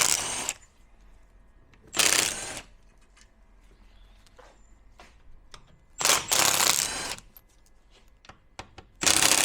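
A power driver spinning out T30 screws holding the AC condenser on a wrecked VW Polo GTI, four short whirring bursts separated by quiet gaps, with faint clinks of parts and tools between them.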